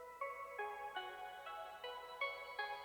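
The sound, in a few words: synth plucks fading in quietly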